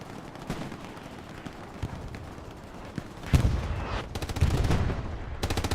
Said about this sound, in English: gets gunned down by the MG of Blackhawk